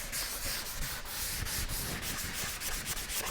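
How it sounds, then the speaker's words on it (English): Light sanding block rubbed back and forth over dried filler during trim and paint prep in a house renovation, a steady close scratchy rasp with quick repeated strokes and no talk. "Can take just like a light sanding block and go over it right away."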